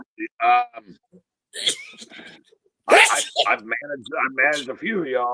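A single sharp sneeze bursts out amid casual talk on a live morning show, with people speaking before and after it.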